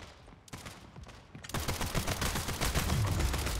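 Rapid pistol gunshots in a video game gun game mode, a quiet stretch of scattered shots followed by a louder, sustained burst of repeated firing with no talking.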